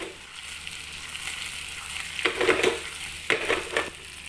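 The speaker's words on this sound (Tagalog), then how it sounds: "I-caramelize lang natin yung sibuyas bago natin ilagay yung hipon." Shrimp added to caramelized onions fry in a pan for chicken, onion, butter and shrimp, a steady close sizzle with stirring scrapes and a few louder bursts of crackle, no talk.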